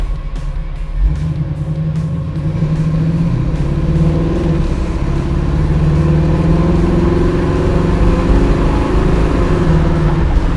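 A 1967 Chevrolet Camaro's V8 rumbles deep and steady from inside the car, the engine note swelling gradually as it pulls, with some faint ticking early on.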